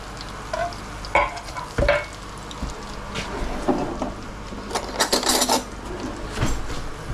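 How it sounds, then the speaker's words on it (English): Shallots and potatoes sizzle steadily in a hot pan for a Portuguese salt cod dish, broken by scraping stirs and utensil clinks against the pan, close and with no talking. "I'm just going to finish off the shallots and the potatoes"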